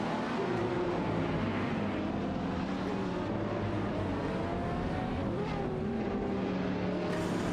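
Video game race with engines of a Lamborghini Sesto Elemento and a Ferrari P45 roaring together, a dense continuous snarl of revving, shifting engine tones at steady loudness.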